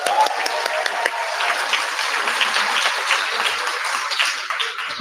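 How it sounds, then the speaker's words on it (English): Sustained applause from a crowd at an outdoor political rally, steady clapping and cheering filling the full stretch without a break. "Let's give him another round of applause."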